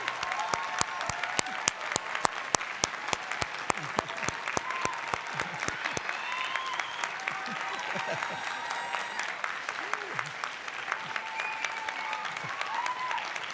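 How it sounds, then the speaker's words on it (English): Commencement hooding ceremony crowd applauding graduates' families and loved ones, many hands clapping with distinct sharp claps up front and scattered voices and whoops in the background, fading slightly toward the end. "join me in applauding your spouses, families, friends, and loved ones for their support for your journey today"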